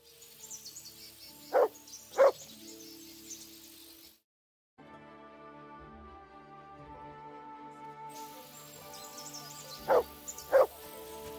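Mutt, the dog in Kingdom Come: Deliverance II, gives two pairs of short sharp barks, a few seconds apart, over a soft outdoor game ambience with chirping insects.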